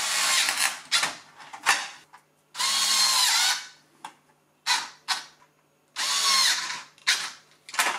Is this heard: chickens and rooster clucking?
no